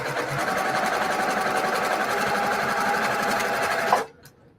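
A sewing machine stitches quilt mosaic squares for a sampler block, running in one steady, fast, even chatter for about four seconds before abruptly stopping, close and clear with no voices.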